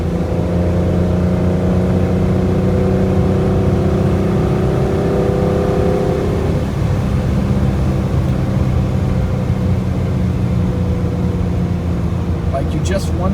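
A 1972 Citroen SM engine pulls steadily under acceleration, a loud continuous drone with rising tones that shift midway as it keeps climbing, heard from inside the car.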